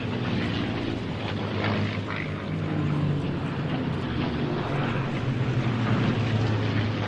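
A P-40 fighter plane's engine drones past in stereo, a continuous low rumbling roar that holds steady and swells slightly toward the end, with no voices.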